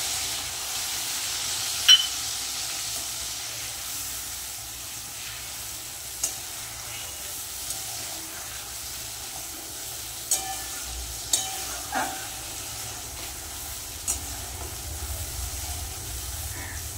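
Mustard paste frying in a pan for a Bengali potol curry gives a steady soft sizzle and hiss, broken by occasional sharp pops and stirring clicks, without speech.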